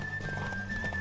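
Galloping horse hooves in The Witcher 3 video game, a steady continuous thud of hoofbeats mixed with game ambience and a faint horse snort, with no talking.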